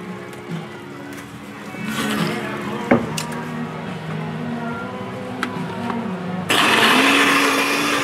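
A blender crushes ice for a frozen albariño daiquiri, a continuous grinding whir that shifts in pitch and grows louder and harsher near the end, with faint clatter under it.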